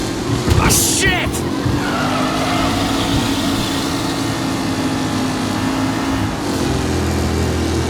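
Race cars skid and roar through a racing event in Mafia Definitive Edition, engines droning steadily with a brief tire screech near the start, while a voice talks over the action.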